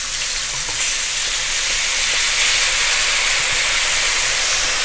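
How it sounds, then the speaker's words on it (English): Marsala wine poured into a hot pan for chicken Marsala, giving a loud, steady sizzle and steamy hiss that holds for several seconds with no voices. "whenever you add anything with alcohol into a pan, the alcohol immediately evaporates"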